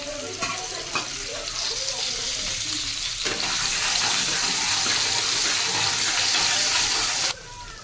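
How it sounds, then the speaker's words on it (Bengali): Vegetable stalks frying in hot oil give a steady, close sizzling hiss that swells louder partway through and holds, then drops back near the end; no one speaks. "এবারে ডাঁটাগুলোকে ভেজে নেব।"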